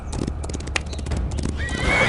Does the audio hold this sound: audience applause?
no